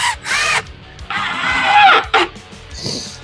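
Power drill driving screws into a subwoofer enclosure, with several short bursts of whirring motor separated by pauses, one longer run in the middle, all close and fairly loud.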